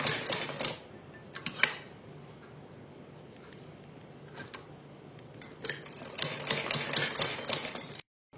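A sewing machine stitches a fabric strip near a neck corner in bursts of rapid ticking, one at the start and a longer run near the end, separated by quieter handling of the cloth.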